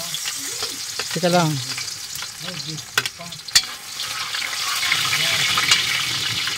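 Garlic sizzles and crackles steadily in a large pot while a voice speaks briefly near the start, with a few clinks of a utensil.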